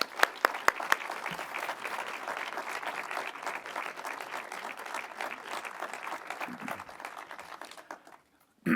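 A lecture audience applauds to welcome a speaker to the stage, with dense, steady clapping from many hands that continues for several seconds before stopping abruptly.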